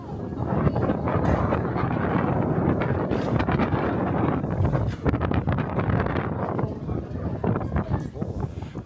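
Strong wind on a street in Daxu, Guilin, sending lanterns swinging, a constant loud roar and buffeting against the microphone with faint talk underneath.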